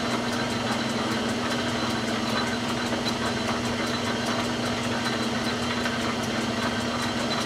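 A metal lathe idles steadily as it takes a light first scribe cut while threading a Remington rifle barrel, a constant mechanical hum with a fine rapid ticking running evenly throughout, no speech.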